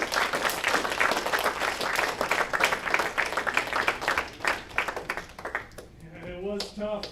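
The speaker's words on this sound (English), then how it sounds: "if everybody could please give all these students a big round of applause" An audience at a middle school robotics awards ceremony claps in a dense round of applause that fades after several seconds, and then a voice begins talking.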